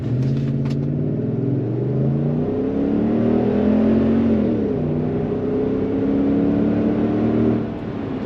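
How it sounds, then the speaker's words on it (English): A deep exhaust on a Toyota truck with a Revel Trail Hart exhaust roars loudly as the engine is floored to about 50 mph, pitch rising steadily through the pull and easing off near the end. "We'll do a quick wide open pull."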